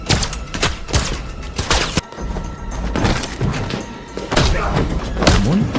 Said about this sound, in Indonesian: Kemudian, Mauricio muncul menembaki Alex